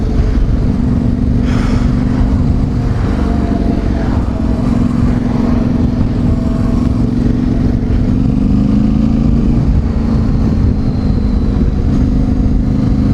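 A Yamaha Tenere 700 motorcycle being ridden, its mid-pitched engine droning loud and steady throughout with rising revs as it pulls away, heavy road and wind rumble underneath.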